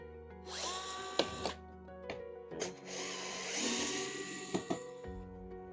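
A power screwdriver with a small star bit backs out a screw from car trim in short whirring bursts of rising whine, broken by clicks and clacks of handling, close and fairly loud.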